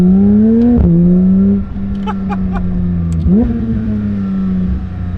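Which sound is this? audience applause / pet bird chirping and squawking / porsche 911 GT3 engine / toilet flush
porsche 911 GT3 engine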